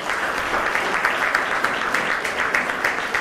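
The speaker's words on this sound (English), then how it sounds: "you can clap for him" An audience at a school prize-giving claps steadily and densely throughout, a full burst of applause with no talk over it.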